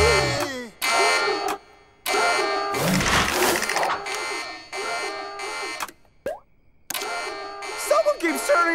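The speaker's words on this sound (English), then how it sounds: "Someone keeps turning on the alarm every time I hit this button." A cartoon alarm goes off in loud repeated buzzing blasts each time a button is pressed, broken by brief gaps, with cartoon voices talking in between.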